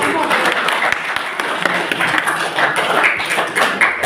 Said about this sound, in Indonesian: Tepuk tangan dulu untuk Mas Dio.